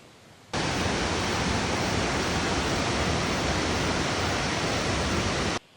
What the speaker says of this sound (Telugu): ఈ వాటర్ ఫాల్ కూడా ఎక్స్ప్లోర్ చేద్దామని వచ్చినాం